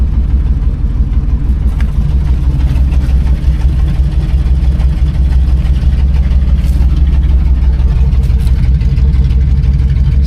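A 1986 Chevrolet square body truck engine runs steadily after its first start in nine years, a loud, close, low rumbling idle that holds even throughout with no talking.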